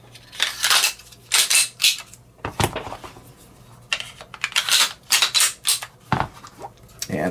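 A Walther PPQ pistol is put back together, its slide fitted onto the frame with a string of sharp metallic clicks and clacks in quick bursts separated by short pauses.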